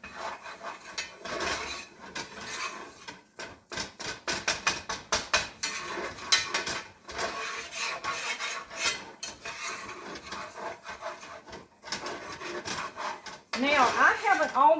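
Ground sausage browning in a pan for homemade sausage gravy, stirred with a utensil that scrapes and rubs rhythmically against the pan in quick bursts, with a brighter clatter near the end.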